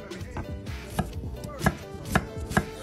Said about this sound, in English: First, I'm gonna chop the onions.